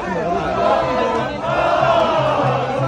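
Dense roar of football fans at an Olympic match in France where Morocco plays the United States, with continuous cheering and chanting that swells and surges throughout, loud and close.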